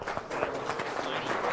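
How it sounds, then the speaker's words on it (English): Audience applause for Tracy at a Sunday morning church service, a steady wash of many hands clapping at close range. "Give him a hand clap"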